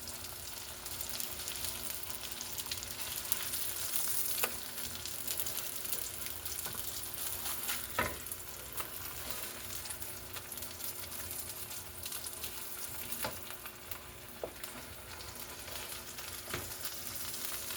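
Smash burger patties sizzle steadily on a hot griddle just after being flipped, a dense continuous frying hiss with occasional scrape and clink of a spatula, close and fairly loud with no talking.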